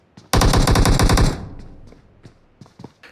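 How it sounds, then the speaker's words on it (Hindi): Loud automatic gunfire in the mobile battle-royale game PUBG Mobile during a clan tournament match, a rapid burst of about a second, then trailing echo and a few faint distant shots. "और ये फायर हुआ जोकर पर थैनोस की तरफ से"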